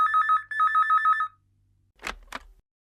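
A telephone rings in two quick electronic bursts indoors, clear and close, followed by a short pause and a couple of soft handling knocks.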